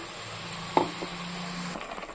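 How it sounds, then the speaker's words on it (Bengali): Coconut milk being stirred into a frying rupchanda (pomfret) fish curry: a steady soft sizzle with a few scraping stir strokes and light utensil knocks, no voices. "নারকেলের দুধটা দিয়ে আমি একটু নাড়াচাড়া করে নিচ্ছি"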